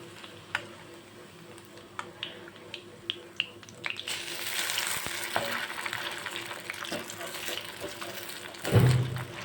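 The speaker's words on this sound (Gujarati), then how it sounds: "હવે મીડિયમ ફ્લેમ ઉપર બીજી બાજુ પણ હું ગોલ્ડન બ્રાઉન થવા દઈશ" Food frying over a medium flame until golden brown while preparing restaurant-style veg Manchow soup. A few light ticks and taps come first, then a steady, close sizzle swells and holds, ending with a louder clatter.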